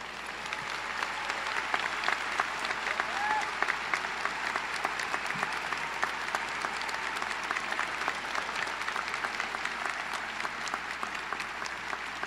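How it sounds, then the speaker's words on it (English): A large crowd at a high school graduation applauds teachers, counselors and support staff, with sustained, dense clapping that fills the venue evenly for over twelve seconds, a few louder claps standing out near the front. "Please join me in applauding the teachers, counselors, and school support staff in attendance"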